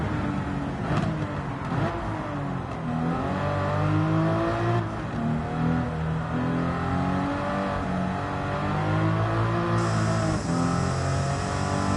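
A car engine in a driving video game revs and changes pitch continuously as it accelerates and shifts, loud and steady throughout with no speech.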